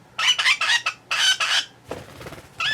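A pet cockatiel or lovebird gives a run of sharp, high chirping calls in quick bursts close by, pausing briefly before one last call.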